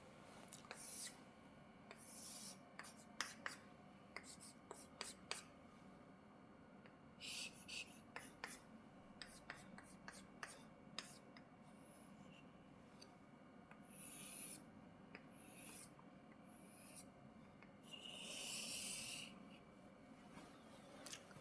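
A pen scratches across paper in short, faint strokes while sketching a parabola for a Class 12 differential equations lesson, soft intermittent rasps spread across a quiet room.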